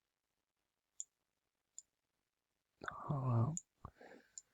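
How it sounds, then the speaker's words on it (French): Two short, isolated keyboard key clicks added as a typewriter-style sound effect on animated text, spaced under a second apart and followed by someone speaking. "j'ai rajouté une touche de clavier"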